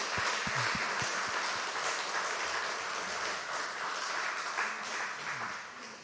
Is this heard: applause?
yes